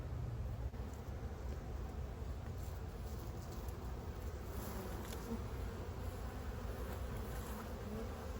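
Honeybees from a rescued and relocated hive buzz steadily and close, a dense continuous drone with individual bees passing near, with no voices.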